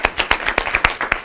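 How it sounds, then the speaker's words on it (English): A college audience greets a guest speaker with a short burst of clapping, distinct individual claps spaced closely in a brisk, uneven rhythm from a modest-sized crowd. "Please give a round of applause for Mr."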